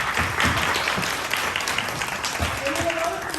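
Audience applause for a graduate named Cameron, a dense wash of clapping held steady at moderate loudness, with some voices and cheers mixed in beneath it.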